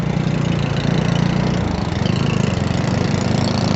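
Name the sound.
Jawa 42 Bobber single-cylinder motorcycle engine idling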